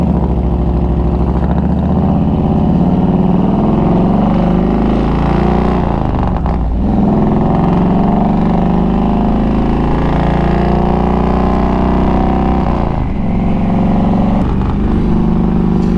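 A Harley-Davidson Road King motorcycle rumbles steadily down the road, a loud, close low engine drone with wind noise that swells briefly as the throttle shifts.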